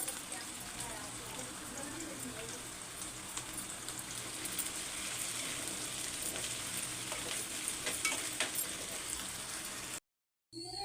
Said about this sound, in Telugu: ఎప్పుడు ఆనియన్స్ మనం బిర్యానీలోకి వేయించుకున్నట్టయితే మనము స్టవ్ హైలో పెట్టి వేయించుకోవాలి.